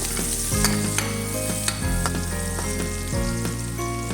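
Garlic sizzles in hot oil in a pan, a steady loud crackle and hiss with occasional stirring scrapes, close up and with no talking.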